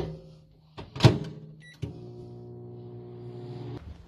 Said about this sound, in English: 3. Put ramen in the microwave.